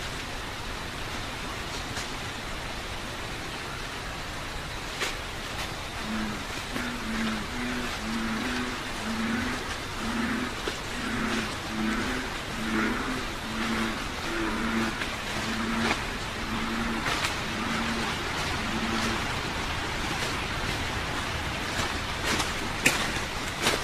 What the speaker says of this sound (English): You'll notice that there's a lot of bullfrogs making a bunch of noise